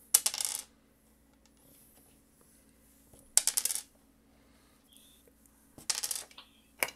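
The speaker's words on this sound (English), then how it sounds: "That's too many dice." Dice rattle and clatter onto a table during a Dungeons & Dragons 5e homebrew tabletop session, with three separate short, sharp rolls spaced a few seconds apart over near silence.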